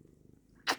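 A cat being brushed purrs in a low, steady rumble, then a short, bright bristly swish of the brush sounds near the end.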